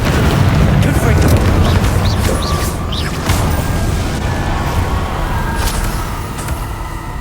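A Confringo blasting spell from Hogwarts Legacy fires off with booming, rumbling bursts, loud and sustained under game effects and a shouting voice.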